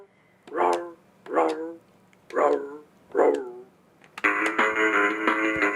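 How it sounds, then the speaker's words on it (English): A dog howls four times in drawn-out, mournful cries with pauses between, then a sustained tonal howl begins and holds to the end. "Oh, it sounds like a dog."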